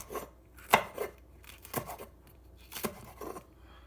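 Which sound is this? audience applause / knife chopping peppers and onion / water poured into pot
knife chopping peppers and onion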